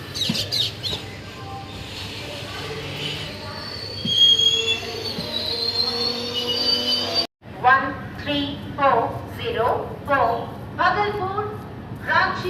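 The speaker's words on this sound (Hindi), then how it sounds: "Bhagalpur Ranchi Banachal Express via Andal, Asansol, Dhanbad, Bokaro arrived on platform number 2." An Indian Bhagalpur–Ranchi express train arrives at a station platform, with loud metallic wheel squeal and rolling rail noise over the first seven seconds, then a platform announcement voice after a brief cut.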